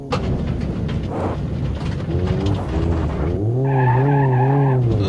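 Bruckell LeGran from BeamNG.drive doing a smoky burnout: loud revving engine with steady tire squeal, rising into a sustained wailing screech over the last seconds, no talk.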